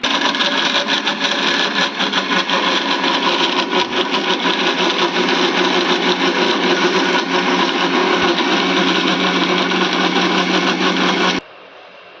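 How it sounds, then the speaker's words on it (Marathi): A mixer grinder grinding spices whirs loudly and continuously for about eleven seconds, then cuts off abruptly, leaving faint background noise. "मिक्सरमध्ये दळून घेते."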